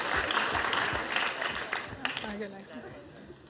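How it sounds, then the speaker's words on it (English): An audience at an Amnesty International youth event applauds in a dense, sustained wash of clapping, with crowd chatter mixed in and the applause thinning toward the end. "Give them all a round of applause."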